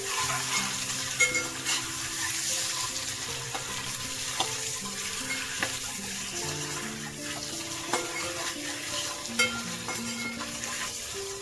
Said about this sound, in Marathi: अंडे आहे ना पहिले फ्राय करून घेणार आहे मी